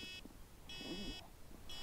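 A PowerEgg X drone controller beeps in repeated high-pitched bursts, three separate spells across the clip, while the drone flies its automatic return to home; faint voice murmur and background noise sit underneath.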